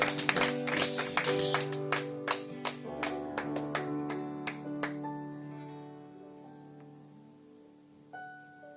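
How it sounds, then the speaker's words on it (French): A church congregation claps during a Sunday worship service, rhythmic hand claps in steady beats over sustained organ or keyboard chords, the clapping fading out after a few seconds as the music continues alone. "On applaudit notre Seigneur"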